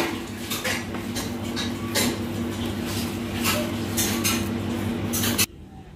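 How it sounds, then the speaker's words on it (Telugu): Potatoes are mashed smooth in a bowl for a poha cutlet, giving a run of repeated scraping taps and soft clinks of utensil on bowl before the sound cuts off abruptly. "ఇలా మెత్తగా స్మాష్ చేసుకోవాలి"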